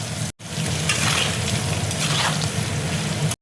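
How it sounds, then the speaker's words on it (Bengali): Potatoes fry in hot oil with a loud, steady sizzle and crackle, stirred in the pan, after a brief cut near the start; close and continuous with no talk. "আলুটা দেখো ভাজা হয়ে গেছে"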